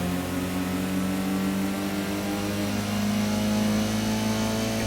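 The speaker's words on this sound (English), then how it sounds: "You can also hear the other cars, which I thought was an amazing thing back then, even though it's the same stock engine sound for all the AI cars" Steady droning car engines in the PlayStation racing game Gran Turismo, the same stock engine note shared by all the AI cars, holding a sustained buzzing hum with a slight pitch rise, loud and continuous with no talking.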